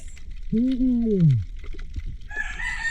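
A rooster crows once, a loud drawn-out call close by, followed by fainter background noise and a brief higher call.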